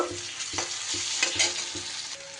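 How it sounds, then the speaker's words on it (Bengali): Chopped tomato and okra frying in a pan, with a continuous sizzle and several quick stirring scrapes of a spoon against the pan, close up and without any voices. "টমেটো কুচি দিয়েও খুব একটু ভালো করে নাড়াচাড়া করে নেব"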